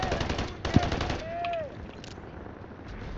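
Rapid automatic gunfire in the video game Delta Force rattles in short bursts early on, followed by a rising whine and quieter ambient battlefield noise.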